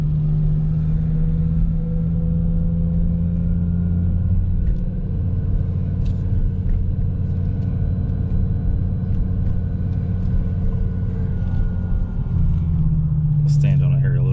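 A BMW E60 M5 with its S85 V10 engine pulls hard on the road, a deep steady drone and rumble that holds loud throughout, then rises in pitch toward the end as it revs harder.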